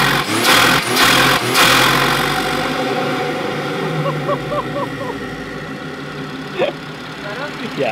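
A modified BMW M140i engine runs outdoors, a couple of loud revs up front settling into a steady, throaty idle with a slight blip later, mixed with background noise.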